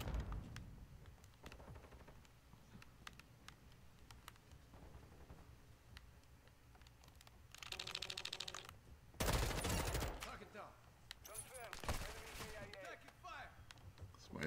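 Gunfire in the video game Call of Duty Modern Warfare 2, with scattered shots and a couple of dense bursts of automatic fire, one loud volley in the middle, under and between a player's talk.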